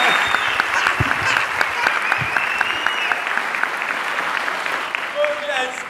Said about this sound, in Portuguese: Isso é uma salva de palmas pro melhor técnico.